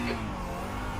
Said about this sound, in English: A bit like that little sort of dip in the engine noise you can hear.